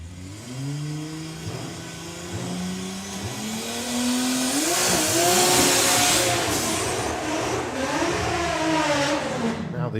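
Drag racing at a Bug Jam meet: a turbocharged VR6 altered against a supercharged VR6 Corrado, engines revving hard with rising, sweeping pitch, loud and close, with tyre noise and a commentator talking over the roar.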